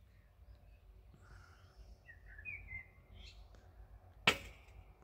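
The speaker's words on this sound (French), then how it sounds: "Le chant des oiseaux, impeccable." Birds sing in a garden beside a caravan, a few faint chirps and short warbles over a quiet outdoor hum, with one sharp click near the end.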